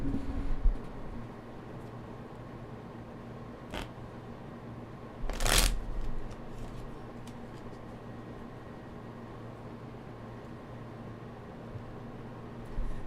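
A single brief riffle of playing cards being shuffled indoors, with a faint click or two before it, set against a quiet steady hum.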